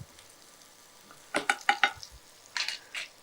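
Potatoes being stirred in hot oil in a pan for a village-style egg and potato fry, heard as a few close, quick scraping sizzles in two short bursts over a quiet background.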